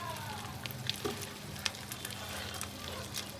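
Ginger paste fries in a pan for a few seconds, giving a close, even sizzle with small pops and faint clicks of a spoon; no one speaks.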